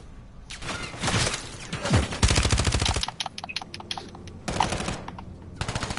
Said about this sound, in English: Got bullets flying all over my head